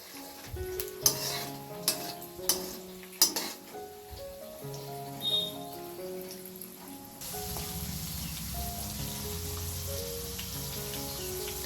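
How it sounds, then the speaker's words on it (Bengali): Homemade pain-relief oil cooks over a low flame as its ingredients fry and bubble in hot oil, a steady soft sizzle with scattered pops and occasional stirring and clinks of utensils against the pan, close and fairly quiet. "তেলটা পুরো কিন্তু গরম হয়ে গেছে, আর এগুলো এবারে ফুটছে দেখুন"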